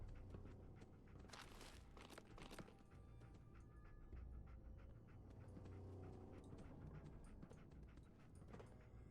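Dog panting in the video game Fallout 4, a quick steady rhythm of breathy huffs over a continuous game background, fairly close.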